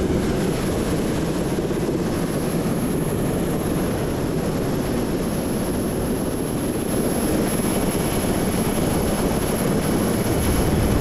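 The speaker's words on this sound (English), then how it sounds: "Such an awesome helicopter." Steady, loud helicopter rotor and engine roar, a continuous low rumbling drone with no voices, sustained throughout.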